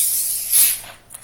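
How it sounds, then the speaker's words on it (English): Sparkling water pours into a glass in a short fizzing hiss that swells briefly and fades, close and alone. "I'm going to pour myself out a drink of water here"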